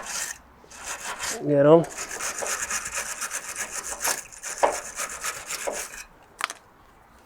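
Corroded bolt heads on an MG TF subframe are rubbed down by hand with rapid, gritty back-and-forth strokes, loud and close, pausing briefly, with a short spoken remark near the end.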